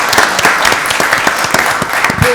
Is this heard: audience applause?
yes